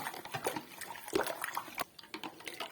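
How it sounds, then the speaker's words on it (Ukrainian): Salt being stirred into cold water for brining pickled cucumbers, a spoon scraping and swishing in the liquid with a run of soft irregular clinks and splashes, close and moderately quiet, no talking. "Взяла воду холодну, висипаю сіль, щоб трошечки розчинити, розмішую ось так"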